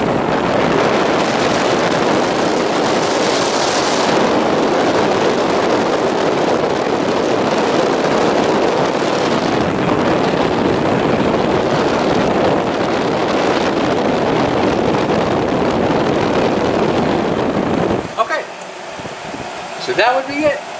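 Arctic King WWK05CM71N window air conditioner running in a cabin, a loud, steady broadband whoosh of fan and airflow that holds constant, then cuts to quieter room sound near the end.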